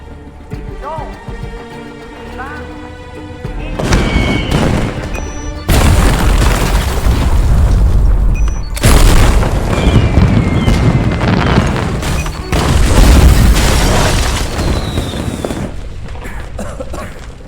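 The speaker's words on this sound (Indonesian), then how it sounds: "peledak akan mulai dinyalakan bebarengan dengan pesta kembang api dimulai" Repeated heavy booms as explosives detonate in waves alongside a fireworks display, loud and rumbling, with crackling firework bursts between them.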